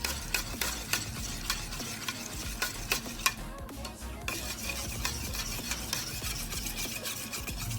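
A spoon briskly mixing yogurt in a bowl for a vegetable sandwich filling, quick rhythmic clinks and scraping repeating steadily up close with no talking.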